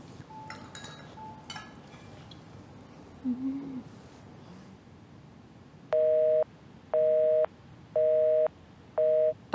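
A phone call to a switched-off handset gives four loud, evenly spaced electronic tone pulses after faint background noise and a small clink.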